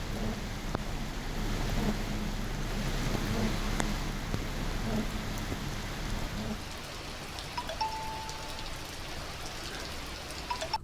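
Heavy rain falling across Kodagu district, a steady dense hiss of drops on surfaces with a low rumble underneath, continuous and fairly close throughout.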